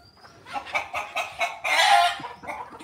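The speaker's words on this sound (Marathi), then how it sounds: "एकच कोंबडा आणि बाकी कोंबड्या भांडायला लागल्या." Rooster and hens on an Indian farm squabbling, with a run of sharp, agitated clucks and squawks in quick bursts that swell into a loud, dense flurry of cackling before settling into scattered calls.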